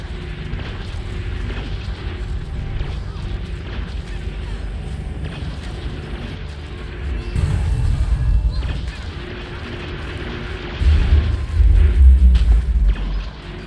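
Rifle fire from a warrior in the Guild Wars 2 video game, Mad King's Labyrinth Halloween map, heard as a dense run of booming shots and explosions over game noise, with heavier bursts growing louder near the end.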